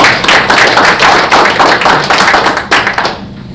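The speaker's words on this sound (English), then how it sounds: "Please, let's give a warm round of applause." An audience at a lecture on bones and bone-inspired materials gives a round of applause, loud, close and dense clapping that stops abruptly near the end.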